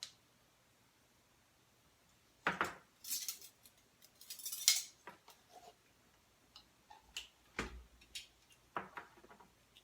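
Baking powder measured with a metal teaspoon into all-purpose flour for a peach cobbler, a scattered series of light clinks and taps against a bowl at close range, no speech.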